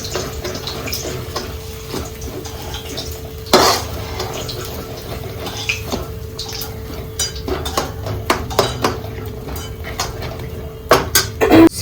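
Mayonnaise being mixed in a bowl with a utensil, a steady scraping and clinking of spoon against the bowl throughout, with a few sharper knocks near the middle and end.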